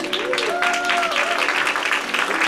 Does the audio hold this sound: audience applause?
yes